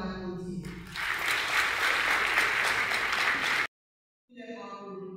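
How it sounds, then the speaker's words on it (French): Steady applause from a crowd at a Haitian women's movement commemoration fills a few seconds, cutting off abruptly, followed by a brief silence and then a voice speaking. "que je vous demande d'applaudir."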